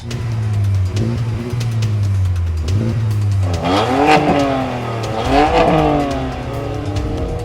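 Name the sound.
sports car launch control revving and accelerating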